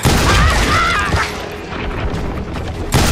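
Gunfire in Call of Juarez 2: loud, booming shots and a blasting crash up close, followed by a rumbling, noisy stretch and another sharp burst at the end.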